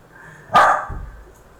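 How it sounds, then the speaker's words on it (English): A dog barks once at moderate distance indoors during a live stream at home, a single sharp bark followed by a brief low tail, otherwise quiet. "excuse my dog barking in the background."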